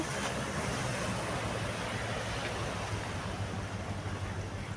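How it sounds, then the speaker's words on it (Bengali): Sea waves roll onto the beach along the Kochi coast in Kerala, a steady, loud wash of surf with gusty wind noise over the microphone and no pauses throughout. "এখানে দেখো সমুদ্র"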